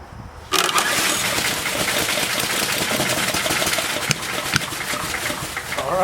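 A 10 hp Briggs and Stratton engine on a Troy-Bilt chipper shredder catches and starts abruptly, then keeps running loud and steady with a rough, rattling roar close by.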